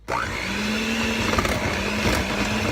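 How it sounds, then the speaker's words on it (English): An electric mixer runs on low, creaming sugar into cake batter for an Italian cream cake, a steady close whirring motor hum with a faint rhythmic churning. "I'm going to put the mixer on low so that it doesn't make too much of a mess"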